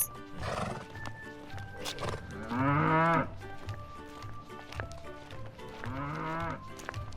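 Cows on a farm let out two long, drawn-out moos, one mid-way and one near the end, amid other livestock noises and a soft backing melody.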